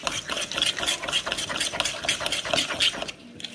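Vanilla sponge cake batter being mixed in a bowl, a steady close-up whirring, churning sound with quick rhythmic pulses that continues without pause and fades slightly at the very end.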